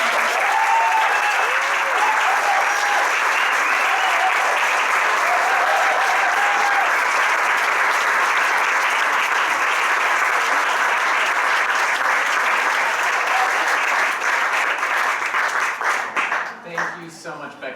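A crowd applauds after a speech at an event celebrating Vermont voting victories: loud, dense clapping holds for about sixteen seconds, then tapers off at the end.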